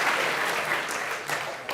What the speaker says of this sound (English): Take the applause.